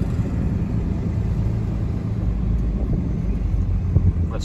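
A truck with a G56 manual transmission running on 50-weight oil drives along, and its engine makes a steady low rumble with road and wind noise that stays loud and even throughout.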